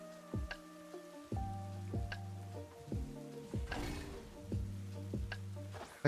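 Rain falls in the Pokémon Violet video game as a faint, steady patter beneath a quiet, repeating musical rhythm.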